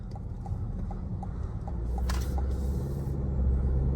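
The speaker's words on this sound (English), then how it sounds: "You can hear the turbo noises as well." Cabin sound from a 2025 Chevrolet Colorado ZR2 pickup with a turbocharged four-cylinder and larger tires, recorded while driving. A low road and engine rumble grows slightly louder, with faint ticking and a brief higher whoosh in the middle.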